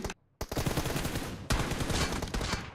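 Sustained dense gunfire in a PUBG-style team deathmatch, loud and close, broken by a short silent gap at the start and a sharp jump partway through as a fresh volley hits.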